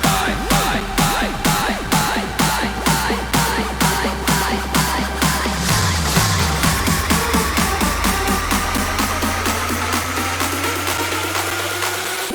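Big-room electronic dance drop, a steady four-on-the-floor kick pumping under bright saw-like synth chords, with a filter sweep opening and shifting the tone midway; loud, dense and continuous with no voices.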